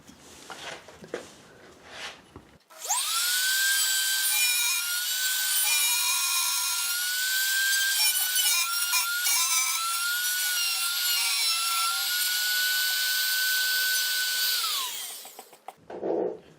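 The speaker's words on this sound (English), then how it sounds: "now got the Dremel set at 150 thousandths" A Dremel rotary tool whines at a steady high pitch as it shapes wood on a Guild 12-string guitar being restored, running loud and continuous for about twelve seconds after some quiet handling noise, then stopping.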